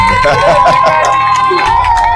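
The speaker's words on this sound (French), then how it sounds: "On applaudit pour elle quand même." A lively crowd cheers and whoops, with children shouting among the adult voices, loud and close throughout a brief burst.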